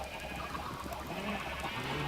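Soft Minecraft sheep bleats waver faintly over a low background hum, a short quiet stretch of blocky farm-animal calls in a video game.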